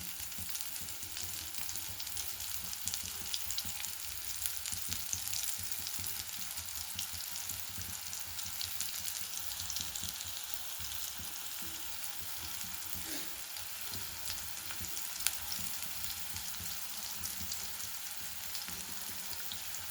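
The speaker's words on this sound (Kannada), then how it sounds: "ಈ ಥರ ನಿಧಾನಕ್ಕೆ ಶಾಲೋ ಫ್ರೈ ಮಾಡಬೇಕು" Bitter gourd pieces coated in chiroti rava shallow frying slowly in a pan, giving a steady soft sizzle with fine crackling throughout, close and fairly quiet, with one brief clink partway through and no talking.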